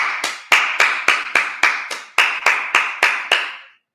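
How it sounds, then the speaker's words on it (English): A congregation at a Sabbath service claps in unison, about a dozen sharp, evenly spaced claps in a steady rhythm that stop cleanly, with no talking. "clap it up"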